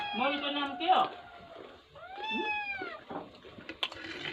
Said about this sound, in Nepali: हाम्रो बिरालो